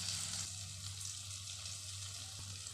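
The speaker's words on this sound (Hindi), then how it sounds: "इससे पहले कि मक्खन जलने लग जाए, हम इसके अंदर 2 चम्मच मैदा डाल देते हैं।" Flour roasting in butter in a pan for a white sauce gives a quiet, continuous fine sizzle with a low steady hum underneath, close and with no voices.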